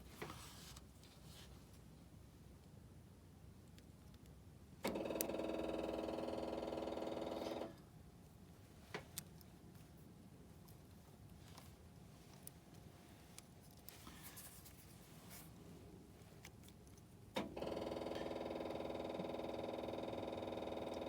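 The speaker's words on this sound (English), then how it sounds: "So you can hear that lift pump running." The fuel lift pump on a 6.5 diesel, run with the oil-pressure switch jumpered, buzzes steadily in two separate bursts of a few seconds each between quieter stretches with faint clicks and handling noises.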